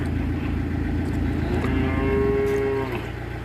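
Calves moo loudly for milk over a running tractor engine hum, a drawn-out bellowing call rising in the middle of the clip.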